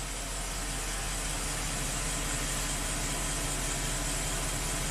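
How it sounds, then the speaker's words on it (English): A Porsche engine runs during a test drive after a MAF sensor repair, heard as a steady broadband rumble and road noise from inside the car, constant and unbroken with no talking. "take this thing for a test drive"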